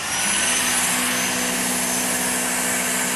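Dyson DC59 Animal cordless vacuum cleaner running steadily after switch-on, a constant high whine with a faint tonal hum underneath, fairly close and alone.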